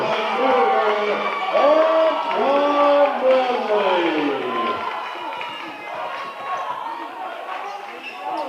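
Loud crowd cheering at a high school basketball regional final, a sustained roar with whoops and rising shouts swelling and fading under the noise of play.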